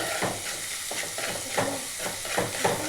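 Tomatoes and green chillies frying in a pan as a spoon stirs them, giving a steady close sizzle with repeated scraping strokes at an uneven rhythm, no voices.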